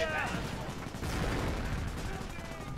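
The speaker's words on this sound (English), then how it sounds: "Another incendiary grenade going off." An incendiary grenade bursts during a real-time strategy game replay, heard amid crackling gunfire and rumbling blasts, with a few notes of game music at the start.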